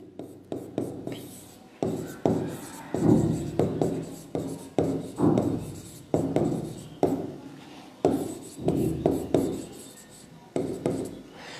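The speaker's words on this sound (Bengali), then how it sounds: "তাহলে আমি কিছু গুরুত্বপূর্ণ লেটার লিখে দিচ্ছি।" Hand writing of letters, with quick scratchy strokes and taps of a pen or marker in short rhythmic clusters, close and clear, with faint murmuring underneath.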